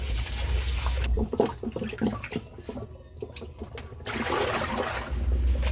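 Vegetables being washed and rinsed under running water in a sink, a steady splashing stream at the start and end with clattering and swishing handling sounds between.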